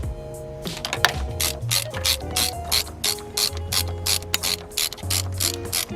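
A ratchet wrench loosening a bolt during turbo removal on a car clicks in rapid bursts of close, sharp pawl clicks. Short strokes repeat with brief pauses and low metallic creaks underneath.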